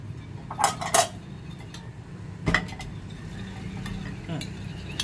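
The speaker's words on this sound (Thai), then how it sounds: "คนให้เข้ากันครับให้มันนวลขึ้น" A spoon stirs oat cake batter in a bowl, clinking and scraping against the sides in a few distinct bursts, with brief speech in between.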